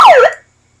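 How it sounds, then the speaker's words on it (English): A Pyle Pro megaphone lets out one short, loud electronic siren whoop that sweeps downward and then tips back up, cutting off abruptly after under half a second and leaving silence. "then it's got the siren, which is obnoxious."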